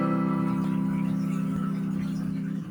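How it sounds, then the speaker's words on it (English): A major triad chord is played and held for a few seconds with a sustained, even tone and a slight pulsing tremolo, heard alone without talk. "The major triad sounds like this."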